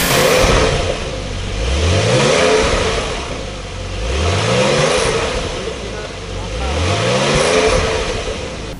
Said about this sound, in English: This is the original exhaust sound on the 992 Carrera.